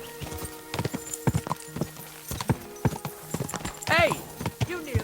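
Horse hooves clip-clopping in the medieval video game Kingdom Come Deliverance 2, a steady rhythm of close hoof beats under shouting voices, with a brief horse whinny near the end.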